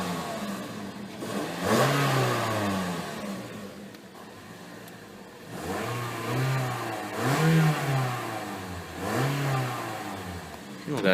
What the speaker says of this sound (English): Go ahead and give it a quick rev.